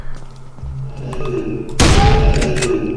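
Shotgun fire in Invention II: a single loud, sharp blast erupts partway through after quieter game ambience, its echo trailing off afterward.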